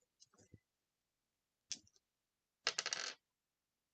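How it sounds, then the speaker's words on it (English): A d8 die pulled from a cloth dice bag and rolled during a tabletop role-playing game, heard as faint clicks followed by a short rattling clatter on the table. "can you roll a d8 for me?"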